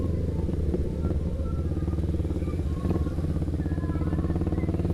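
Honda Rebel 500 motorcycle, built on the CB500 series engine, running steadily while being ridden, a loud continuous low throbbing engine note with slight rises and dips and no pauses.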